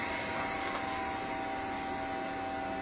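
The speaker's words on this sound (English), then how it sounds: "we still have the chip removal on, but the spindle is not turning" A CNC router's chip removal vacuum runs with the spindle stopped, giving a steady, fairly quiet whooshing drone with a faint constant whine throughout.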